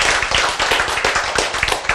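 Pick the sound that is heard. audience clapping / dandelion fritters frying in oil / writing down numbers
audience clapping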